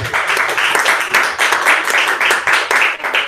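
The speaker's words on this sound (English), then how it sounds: "If we could have a round of applause for Tom" A lecture audience gives speaker Tom a round of applause at the close of a talk, close, loud clapping with a lumpy, pulsing rhythm throughout.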